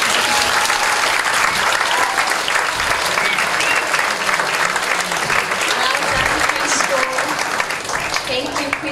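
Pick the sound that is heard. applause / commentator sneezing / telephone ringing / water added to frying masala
applause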